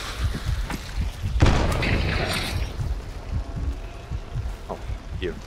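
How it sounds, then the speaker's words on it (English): Explosions in a first-person hunter shooter game: a heavy boom lands early, followed by scattered thuds, crackles and rumbling debris at moderate loudness. "they really like their fucking explosions, huh?"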